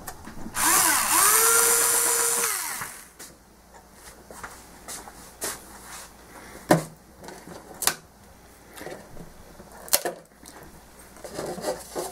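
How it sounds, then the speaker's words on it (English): A small Tamiya power drill whirs steadily for a few seconds, then stops, followed by scattered knocks and handling clicks nearby. "These little drills are great"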